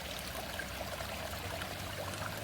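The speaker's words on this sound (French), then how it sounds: "C'est le petit ruisseau." A small brook flows close by in woodland, a steady continuous babbling and trickling wash of water with no breaks, moderately loud and without voices.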